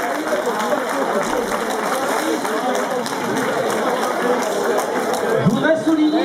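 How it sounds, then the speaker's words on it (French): Audience applauding steadily at a trophy ceremony, dense continuous clapping close and even throughout, with a voice briefly heard near the end. "On peut les remercier d'abord et les applaudir"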